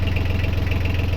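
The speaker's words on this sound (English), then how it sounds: "I put the engine cover on, you can't hardly even hear that the engine's going in this thing" A boat engine idles steadily with its cover fitted, giving a continuous low, muffled hum with a faint knocking vibration throughout and no talking.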